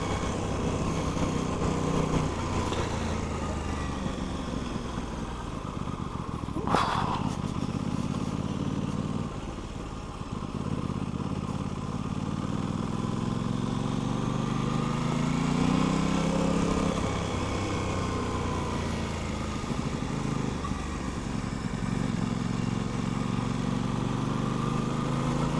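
An Aprilia RS660 motorcycle engine under way while riding, a steady loud drone with rising and falling revs and gear changes over continuous wind noise, close to the microphone.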